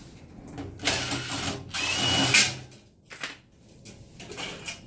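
A power drill backs screws out of a dip box condenser coil unit, whirring in several short, close bursts separated by brief pauses.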